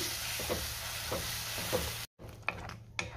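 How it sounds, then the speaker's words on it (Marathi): A spoon stirs tomato chutney in a hot pan with a steady sizzle, several distinct scraping strokes, a brief break, then a few more stirs. "आणि सगळं व्यवस्थित मिक्स करून घेऊया"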